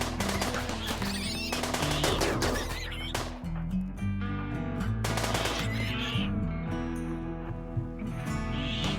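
Mini turrets fire at a swarm of rats in the RimWorld video game, rapid automatic gunfire in loud repeated bursts over a backing of game music.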